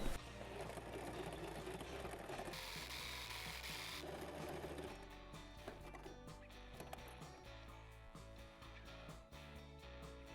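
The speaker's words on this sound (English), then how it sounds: "So I'm going to start sewing and pulling so I can sew the most of it" A sewing machine stitches fabric for a winter neck warmer, running in a continuous close, busy whir with a rapid mechanical rhythm and only small shifts in speed.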